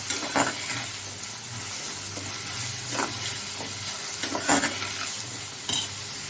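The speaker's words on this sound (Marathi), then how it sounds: "कांदा छान परतायला हवा" Onion sautés in a hot pan for a Kolhapuri dry chicken dish, with a steady sizzle broken by several scraping stirs of a spoon against the pan.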